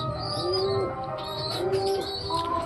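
Pigeons coo in their coop, low rolling calls repeating at a moderate pace, with faint chirps and higher bird sounds mixed in over a steady background.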